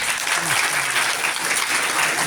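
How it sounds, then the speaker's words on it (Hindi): A crowd at a school prize distribution claps loudly and steadily, a brief burst of close, dense applause with a voice faintly under it. "तालियां बजा बेटा"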